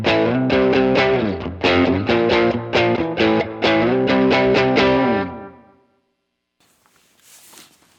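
Electric guitar through a Line 6 Helix overdrive chugs out a choppy chord riff with crunchy distortion, then lets the final chord ring out and fade into quiet handling noise.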